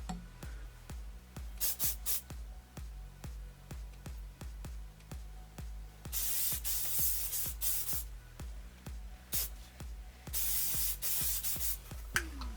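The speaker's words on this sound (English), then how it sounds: "So I'm just going to spray some of this throughout my hair." Short bursts of hairspray hiss close up as it is sprayed onto hair, repeated several times with pauses, alongside soft rubbing and handling noises.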